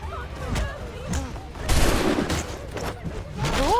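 Gunfire in Assassin's Creed III, scattered musket and rifle shots cracking amid a busy crowd scene, with someone talking over the noise.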